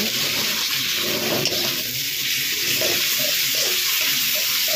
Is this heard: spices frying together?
yes